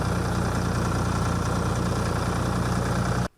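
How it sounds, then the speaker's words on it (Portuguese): Tractor engine running on a 21-hectare pig farm, a steady loud low rumbling drone with an even chugging pulse that cuts off abruptly at the end, with no voices. "Foi de trator mesmo."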